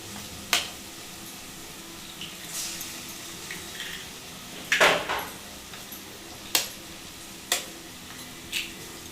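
Eggs frying in a pan for egg fried rice, a faint sizzle with a few sharp spatula clinks and scrapes against the pan spaced apart, close and alone.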